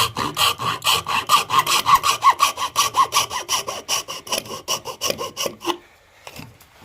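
A handsaw cuts through wood along a marked line in steady back-and-forth strokes, a rasping, rhythmic sound close by that stops near the end, leaving quiet handling noise.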